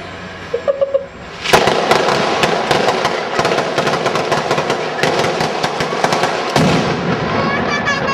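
A traca firecracker string goes off: a few scattered pops, then several seconds of dense, loud, continuous crackling, and a second sharp surge near the end.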